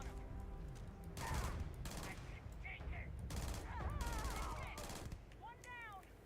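Bursts of sci-fi gunfire in a firefight in the game Starfield, repeated volleys of shots over several seconds, with voices talking over the combat.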